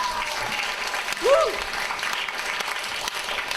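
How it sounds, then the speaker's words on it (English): Audience at a training conference applauding in a steady, full burst of clapping, with one voice letting out a short cheer partway through. "let's give a round of applause to the ones that are still standing up"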